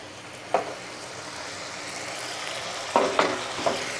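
Green beans frying in a pan over a gas flame, with a steady sizzle and a few sharp scrapes and clatters of a spatula against the pan, including a cluster near the end.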